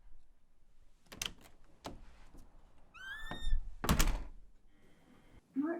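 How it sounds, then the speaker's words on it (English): A door in a radio drama produces a series of knocks and thumps, followed by a creaky, whining swing as it opens and a heavy clunk as it shuts, heard alone at moderate loudness. "Open the door, Martin."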